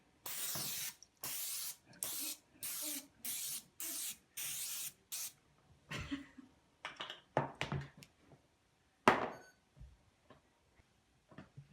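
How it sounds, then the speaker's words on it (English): Several short hissing bursts of Pam aerosol cooking spray onto a pan in quick succession, followed by soft clicks and taps of handling the pan nearby. "get some Pam and spray your pan"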